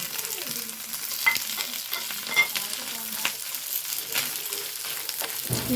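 Curry leaves, garlic and shallots sizzle in hot oil while a spoon stirs and scrapes the pan, with a few sharper clinks over a steady frying hiss.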